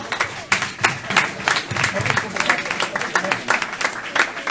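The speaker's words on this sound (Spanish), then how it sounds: "Un aplauso a él, aplauso al Señor." A church congregation claps in praise, a lively, sustained burst of many hands with some voices mixed in beneath the clapping.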